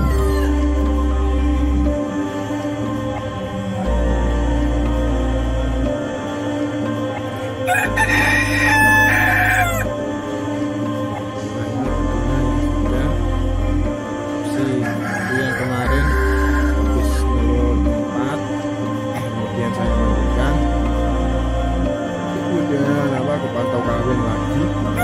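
Madurese gaok chickens in a pen, with roosters crowing in long calls and hens clucking over a busy farmyard background, a voice talking at times.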